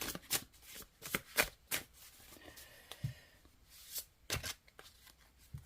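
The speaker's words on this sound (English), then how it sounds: "Okay, give it a shuffle." A mass-market Field Tarot card deck being shuffled at close range, with a quick run of crisp riffling snaps and softer card slides in irregular bursts, heard alone.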